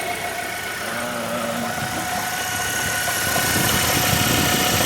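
A Hummer H3 engine idles steadily with a rough, rumbling drone and faint knocking, close by and growing slightly louder near the end.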